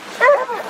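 Hunting dogs give a brief burst of yelping barks during a hog hunt in Florida, close and fairly loud, lasting under a second.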